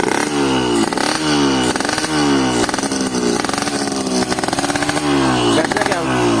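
Yamaha RX King two-stroke motorcycle fitted with a Super Booster RS1 cable, revved repeatedly in short sharp bursts, loud and close, each blip rising and falling with a raspy, crackling exhaust tone.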